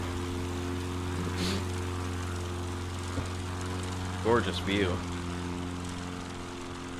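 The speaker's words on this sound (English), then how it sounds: "Listen to those engines spooling up." Aircraft engines with propellers droning in Microsoft Flight Simulator during an eSTOL competition in the Appalachian mountains, a steady tonal hum with a low drone beneath, while someone speaks briefly over it.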